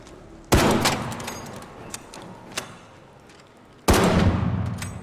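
Two loud, sharp bursts of turret gunfire in the video game Arc Raiders, each trailing off in a rumbling tail, with a few faint clicks between them.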